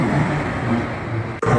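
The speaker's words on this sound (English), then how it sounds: "That racing sound is from the RAT engine" A ram air turbine deployed on Air India Flight AI-171 gives off a loud, steady, racing mechanical whine that holds almost unbroken, with one brief dropout just before it resumes.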